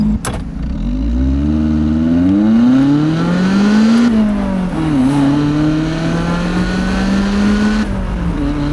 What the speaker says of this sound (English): I think here we can go out really quickly to the right, let these cars pass.